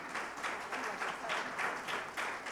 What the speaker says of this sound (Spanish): Dale un fuerte aplauso a ella.